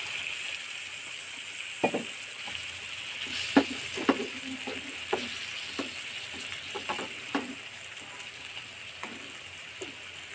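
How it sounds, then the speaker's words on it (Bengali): Ritha sea-fish bhuna with ginger-garlic paste sizzles steadily in a pan as a little water is added. A soft continuous fry hiss runs under scattered sharp clicks and scrapes of stirring. "সেটা কষানো হয়েছে, দিয়ে দিচ্ছি সামান্য একটু পানি।"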